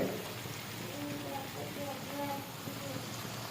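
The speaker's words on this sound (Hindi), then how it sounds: "और थोड़ा सा इसमें पानी ऐड कर लेंगे" Water is poured into a cooking pan holding fried cauliflower florets and spices for a gobi curry, making a steady, rushing splash that lasts the whole moment, with faint background voice traces.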